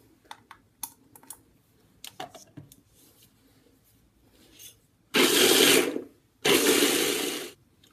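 Two loud, dense bursts of a kitchen blender whirring through a breakfast mixture, each about a second long, preceded by scattered clicks and knocks as the jar is set in place.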